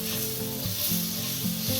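Four tablespoons of Irish butter sizzle and crackle in a very hot cast iron skillet, a steady loud hiss with brief scraping stirs, and no talking.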